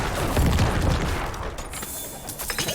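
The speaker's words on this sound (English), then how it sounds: "Let me back up a little and do some corpse explosions on him." Corpse explosions in the Diablo IV video game go off as a dense burst of booming, crackling blasts, loudest in the first second and thinning into scattered pops and impacts afterward.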